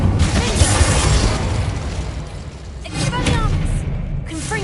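An Incendio fire spell is cast in the Hogwarts Legacy video game, producing a loud, sustained whooshing roar of flame with rumbling bursts, dense and continuous, swelling again partway through.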